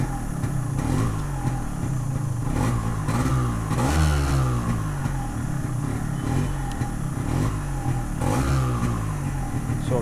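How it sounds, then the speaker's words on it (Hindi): A fully restored Yamaha RXZ 5-speed motorcycle revs up and falls back repeatedly, its engine and exhaust note close and fairly loud, with rising and falling pitch sweeps. "सो इसका एग्जॉस्ट नोट काफ़ी प्यारा है गाइस, एकदम लाउड भी नहीं है।"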